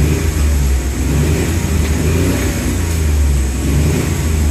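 A Suzuki K6A engine idles loudly with a deep, steady drone, and its faulty aircon compressor adds a rough, grinding hum throughout, heard close up with no talking.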